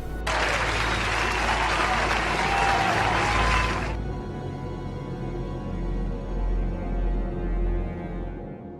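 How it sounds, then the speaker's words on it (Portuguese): Dense audience applause of many hands clapping for about four seconds, then it stops abruptly, leaving a low rumbling background hum. "No momento que todos estavam aplaudindo"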